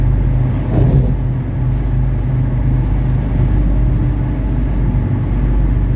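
A 1979 Mercedes 300SD diesel engine held near 3,000 rpm on a test drive, a loud, steady, smooth low drone with constant road and cabin rumble and no talk.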